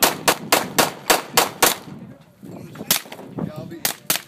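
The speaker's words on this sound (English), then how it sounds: "Here we go, Fred, with the suppressor, the Kriss." Bursts of suppressed .45 caliber automatic fire from a Kriss submachine gun at a Las Vegas trade show range, sharp rapid cracks in quick strings of about seven shots, a pause, then more short bursts, loud and close.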